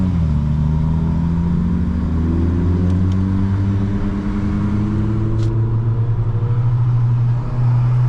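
A tuned car accelerates in second gear, its engine droning loud and close with a steadily rising pitch as it pulls, interrupted by a brief faint click partway through.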